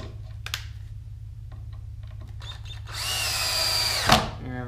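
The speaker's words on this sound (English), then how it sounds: "I think I'm running out of juice on this drill." A cordless power drill driving screws into wood pallet boards whirs in a sustained burst, rising in pitch before stopping abruptly, preceded by a few short clicks and taps nearby.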